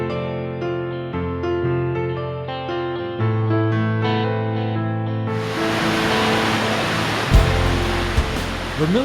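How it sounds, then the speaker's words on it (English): Vermillion Falls in Hastings, Minnesota, a broad, steady roar of falling water that rises suddenly after soft piano music and then continues alone, loud and unbroken. "Vermillion Falls in Hastings is one of Minnesota's historic waterfalls."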